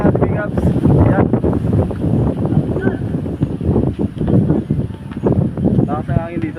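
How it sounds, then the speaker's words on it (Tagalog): Strong wind buffeting the microphone at Kinoguitan Bagakay B Park, loud gusty rumble and roar in uneven bursts, with a person talking over it. "Alakas ang hangin dito sa Kinugitan."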